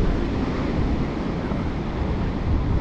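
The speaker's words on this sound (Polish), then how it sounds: "Jeszcze zrobimy ostatni rzut oka na morze, na ocean." Steady roar of ocean surf on the Atlantic coast near Spain, a broad continuous wash of breaking waves mixed with wind buffeting the microphone, loud and unbroken.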